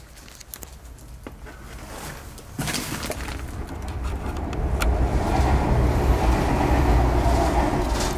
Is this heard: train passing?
yes